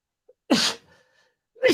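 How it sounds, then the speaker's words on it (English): A single sharp sneeze from a presenter during an off-grid design tech talk, loud and close, followed by a short quiet pause and the start of another breathy burst. "oh my gosh, I'm going to sneeze."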